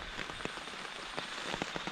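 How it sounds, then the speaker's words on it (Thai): Steady rain drums on a canvas tarp over a hammock at night in a high-mountain tropical rainforest during the rainy season, a continuous close patter with scattered heavier drops striking the sheet. "ฝนมันตกนะครับผม"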